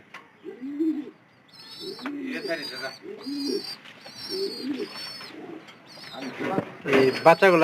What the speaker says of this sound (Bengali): মুক্ত অবস্থায় এই কবুতরগুলা পালন করাবো